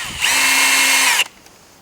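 Power tool spinning a bolt out of a DynaCon conveyor hex plug, a single loud whine lasting about a second before cutting off abruptly.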